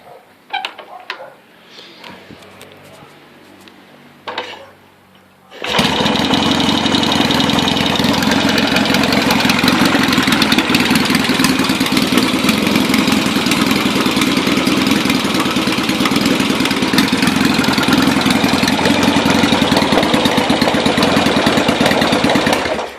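A Yamaha XS650 motorcycle engine starts after a few quiet seconds and settles into a loud, steady, slightly high idle with occasional popping, close by and running alone for the rest of the clip.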